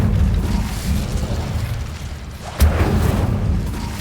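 An Incendio fire spell cast in Hogwarts Legacy: a low, rumbling fiery burst runs throughout, with a sharper boom-like flare partway through, loud and close.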